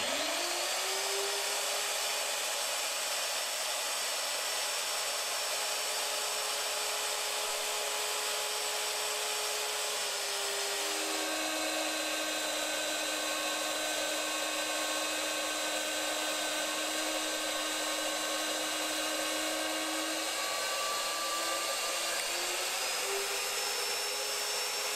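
A steady high-pitched whine of drilling metal with cutting oil runs continuously, its pitch shifting downward partway through and rising again near the end, with no talking.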